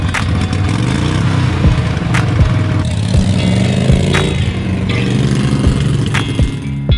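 Dynamark lawn tractor engine running steadily with a throaty drone, close and continuous, with a few sharp knocks and clunks on top.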